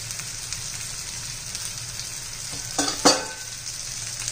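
Spices for egg masala fry in oil in a pan, giving a steady soft sizzle close to the mic. A couple of clinking stirs against the pan sound near the end.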